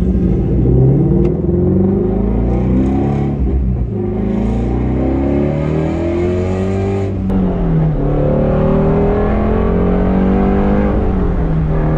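Modded Shelby GT350R Mustang on street tires accelerating hard on a track, a loud, steady engine roar rising and falling through gear changes, with a brief dip midway, close and continuous throughout.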